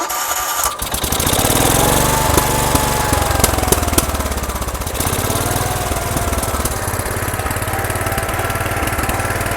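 A Wheel Horse garden tractor engine cranks briefly, then catches and runs with a loud, rough, steady chugging throughout, close by, with no talk.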